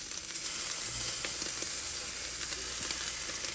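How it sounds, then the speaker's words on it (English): Pork fat sizzles steadily on a barbecue, a continuous bright crackling hiss with scattered small pops. It carries at a moderate level with no talking. "you can see the fat from the pork is gonna be, you can see it sizzling"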